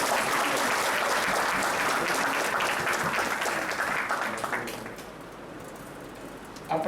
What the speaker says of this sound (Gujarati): આપણે જોઈને તાળીઓથી વધાવીએ તો જ મારા શબ્દોને પીઠબળ મળે